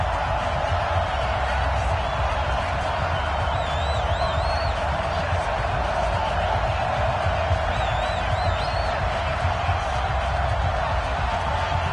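A steady, roaring stadium crowd cheers in an EA Sports NFL video game between the Chicago Bears and Green Bay Packers, a constant wash of noise with faint whistles and whoops throughout.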